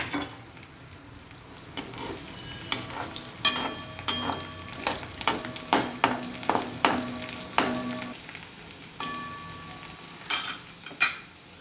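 Garlic fries in a pan, with a continuous sizzle broken by regular metallic clinks and scrapes of a spatula stirring against the pan, close and fairly loud.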